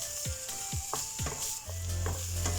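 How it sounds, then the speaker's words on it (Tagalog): Beans are stir-fried in a hot pan, with a steady close sizzle under a few quick scraping strokes of a spatula and a brief low hum near the end. "Then, add the beans. Stir fry for 2 minutes."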